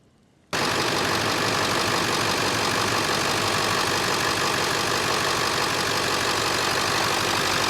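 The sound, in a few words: 7.3 diesel truck engine idling after top end oil treatment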